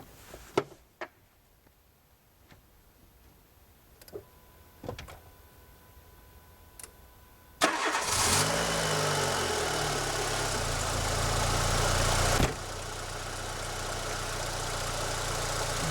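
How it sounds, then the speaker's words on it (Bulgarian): A 2000 Renault Scenic 1.6 16V with 200,000 km, running on gas, cranks briefly and catches, then settles into a steady, fairly quiet idle after a few clicks and thumps from inside the car. "Сега ще ви демонстрирам как пали един двигател,"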